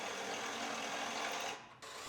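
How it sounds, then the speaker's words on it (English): Power drill boring through welded reinforcement on a Ford Focus body, a steady high whine that holds for over a second and a half, dips briefly, then resumes. "And now we can drill our reinforcement off."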